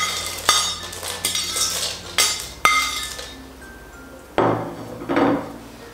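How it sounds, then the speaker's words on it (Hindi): A spoon clinks and scrapes against a metal bowl, mixing fried corn poha, peanuts and thick poha, with sharp rhythmic strikes, rattling stirs and a few louder scraping sweeps. "आइए अब हम सब तले हुए सामान को मिलाकर जो है अच्छी तरह से मिक्स कर लेंगे।"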